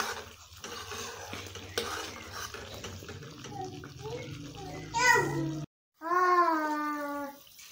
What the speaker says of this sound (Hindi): इसके अंदर ज़्यादा चम्मच चलाना है कि ये नीचे से लग ना जाए, जल ना जाए।